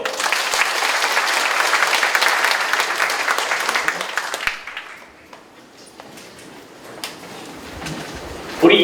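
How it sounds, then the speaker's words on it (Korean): An audience at an indoor briefing meeting claps in a dense, steady round of applause that lasts about four seconds, then fades quickly to scattered claps and a quiet room. "박수 한번 쳐주세요."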